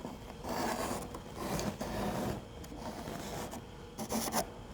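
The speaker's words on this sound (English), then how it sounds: "we're going to use our sheetrock saw" A sheetrock saw cuts through drywall around a hole to be patched. It makes rough, rhythmic rasping strokes in irregular bursts, close and moderately loud, with no talking.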